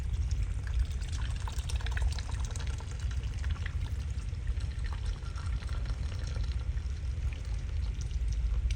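Two cans of Tailgater beer pour into a pot of spicy pork belly and chorizo chili, giving a steady, continuous liquid rush that stays even and fairly loud for the whole stretch, with no talking.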